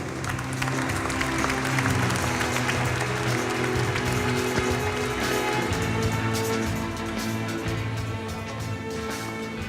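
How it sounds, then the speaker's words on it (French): Audience applause fills a French gastronomy and wine trophy awards ceremony, a steady sustained clapping from a sizable crowd over a low hum and background music-like tones, continuing at even loudness throughout. "qu'on peut applaudir"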